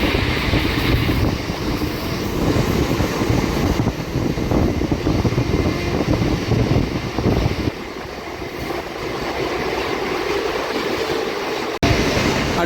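A train rushes past on the opposite track beside a moving Singareni MEMU train, a loud continuous roar and rattle of wagons that drops off sharply near the end, leaving the quieter rumble of the carriage.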